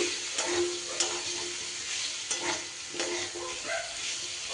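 Green chili and chili powder stirred in hot oil for a Bengali dish of tender Malabar spinach, giving a steady sizzle broken by several scraping stirs of a spatula against the pan, close and fairly loud, with no talking.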